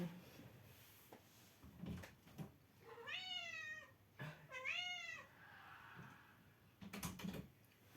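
A cat meows twice in a row, drawn-out and wavering calls at moderate distance, wanting to be let inside, with small household knocks and clatter around them and no talking.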